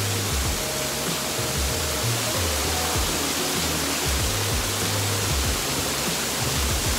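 The Virgin waterfall in Baños, Ecuador, roars as a steady, loud broadband rush of falling water with a low rumble underneath, continuous throughout and with no voices over it.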